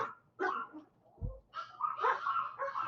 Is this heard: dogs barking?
yes